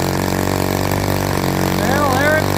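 A small engine on a Byron Zero model runs roughly on 100 low-lead avgas, giving a loud, steady, buzzing drone close by that holds an uneven idle throughout.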